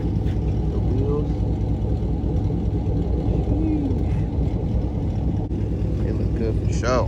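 A GMC truck on drift wheels cruises along in Mexico, its engine and wind making a loud, steady roar close to the microphone with no breaks.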